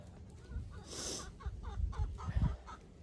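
A rooster clucks softly in a series of short, low, irregular clucks at close range, fairly quiet, with a brief rustle partway through.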